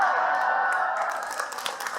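Applause from a sermon audience, a dense burst of clapping that starts full and gradually thins out with scattered claps over about two seconds.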